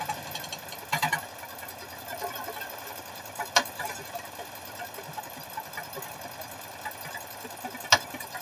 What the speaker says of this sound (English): It does cut the thread automatically.